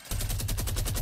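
Rapid automatic gunfire in Fortnite, a fast even burst of shots rattling continuously through the second at close, loud range.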